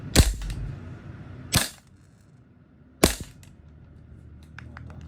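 A VFC URGI carbine airsoft gas blowback rifle fires three sharp, loud single shots about a second and a half apart. Each crack comes with a snappy bolt clack and is followed by a quiet room.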